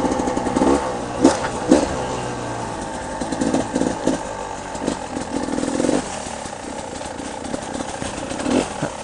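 A 2017 Beta 300RR two-stroke enduro motorcycle, warmed up, runs steadily up close. The rough, buzzy engine note is punctuated by a few sharp throttle blips and surges with no talking.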